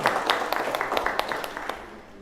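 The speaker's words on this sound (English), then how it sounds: "I just want a quick round of applause to Funk for having us" Brief applause from a small group, a few seconds of scattered clapping that fades out quickly.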